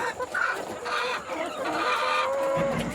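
Native chickens and RTL hens cluck continuously on a farm, several birds close by with overlapping calls throughout.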